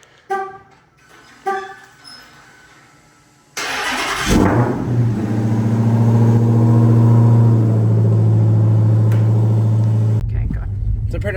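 A Dodge Hellcat fires up from a cold start with a sharp crank burst, then settles into a loud, deep, steady rumbling idle heard up close, cutting off abruptly near the end after a few faint clicks at the start.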